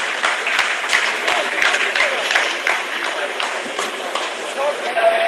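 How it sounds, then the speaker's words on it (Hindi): Scientists applaud in a mission control room after a lunar lander finishes a descent phase during the Chandrayaan-3 landing, a steady sustained clapping that runs the whole time, with voices mixed in underneath. "आप इस तालियों के गड़गड़ाहट को सुन सकते हैं"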